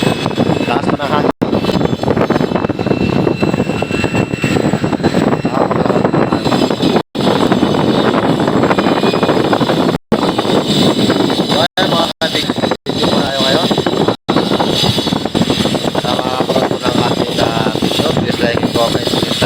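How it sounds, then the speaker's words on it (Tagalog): Strong wind roars across the microphone outdoors on a foggy morning with heavy rain, a loud, constant rushing broken by a few brief dropouts, with someone talking over it. "Lakas pa ng hangin."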